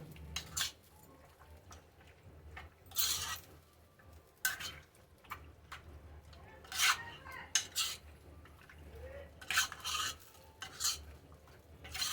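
Spices being stirred into chicken in a pan, with faint scraping and scattered spoon clinks against the metal, quiet and intermittent.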